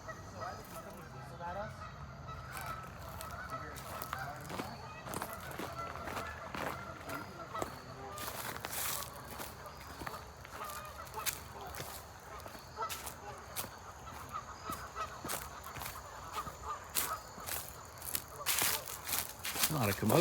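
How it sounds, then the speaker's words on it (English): Geese honk in an agitated chorus from some distance, with splashing and rustling movement nearby and occasional loud bursts. "Geese going crazy."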